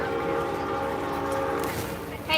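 Southern steam locomotives 630 and 4501 arriving at the Tennessee Valley Railroad Museum, a near, loud rumble of engine and rolling train with a tonal whistle-like note, brief and continuous.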